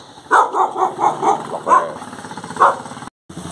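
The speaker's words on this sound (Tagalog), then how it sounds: "At may malaking doggy." A big dog on a wet road barks in a quick series of five or six yaps followed by a couple of spaced barks, moderately close and heard on its own.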